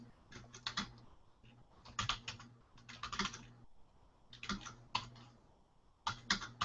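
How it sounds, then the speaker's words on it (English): Quiet typing on a computer keyboard in bursts of quick clicking keystrokes separated by short pauses, with a low electrical hum underneath and no speech. "Are you seeing what I'm typing there?"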